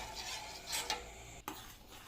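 A spoon stirs almond milk cream in a pan on a stove kept on low heat, producing soft scraping swishes with a couple of brief knocks against the pan, faint and close.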